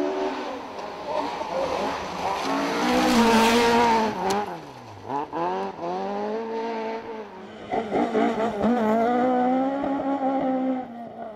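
Rally car racing flat out on a Speyside forest stage, engine note rising and falling through gear changes and braking, loud and close throughout, with a brief dip mid-run before accelerating hard again.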